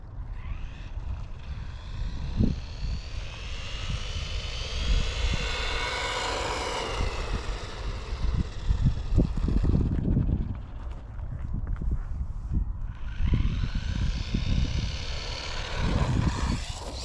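Hosim ZENO X05 1/10-scale RC car on 2S power driving outdoors, its electric motor whining in a steady high drone that rises and falls with the throttle, with bumps and rumble from the wheels over rough ground.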